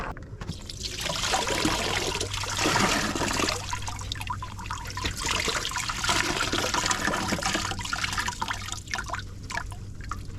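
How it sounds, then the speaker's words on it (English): Water running and splashing over tumbled rocks as they are rinsed during rock polishing, a steady close hiss of flowing liquid with some trickling and dripping, no speech. "I'm all set to go to rinse the rocks off and move them on to the next stage"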